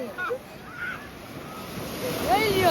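Sea waves roll in at the beach at Madhavpur, a continuous rushing wash with wind buffeting the microphone, and people talking faintly over the surf.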